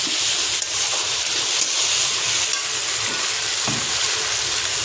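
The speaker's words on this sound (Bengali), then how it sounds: "হালকা একটু কষাবো।" A masala of tomato mixed into dal is sautéed in a pan, sizzling constantly at close range under soft scraping and stirring, with no one talking.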